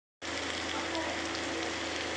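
Ginger-garlic masala sizzling as it hits browned onions in a pan for a cabbage and potato curry, a sudden, steady, dense frying hiss that starts abruptly and holds evenly close by.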